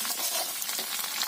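Fuchka papri frying in hot oil in a pan in a village kitchen, a brief, dense and close crackling sizzle.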